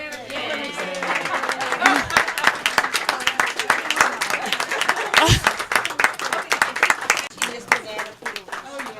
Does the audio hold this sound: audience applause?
yes